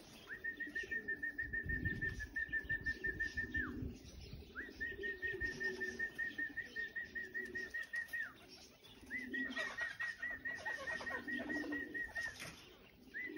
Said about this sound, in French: il y a des pigeons qui se posent aussi là-bas